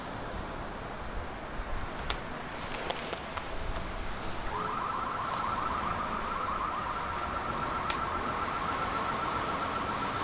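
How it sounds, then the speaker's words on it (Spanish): A steady electronic alarm tone pulses in the distance near a seaside cemetery, starting a few seconds in and continuing over faint wind and surf noise, with a few soft knocks early on. "Es una alarma."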